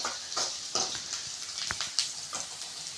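Garlic sautéing in oil in a pan while egg fried rice is cooked: a steady sizzle with soft, repeated scrapes and stirring clinks from a utensil, fairly quiet and with no talking.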